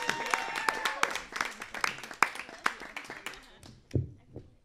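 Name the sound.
audience applauding comedian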